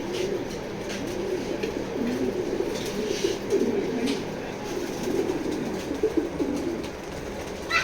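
A steady murmur of racing pigeons cooing fills a busy loft, with faint background noise and occasional soft clicks throughout.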